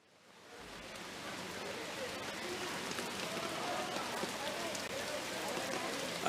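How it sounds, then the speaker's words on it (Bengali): Steady rain falls during a morning downpour in Chattogram, a dense, even hiss that holds throughout and gently builds in loudness, with no clear voices over it. "সকাল থেকে সেই বৃষ্টি আবারও শুরু হয়েছে"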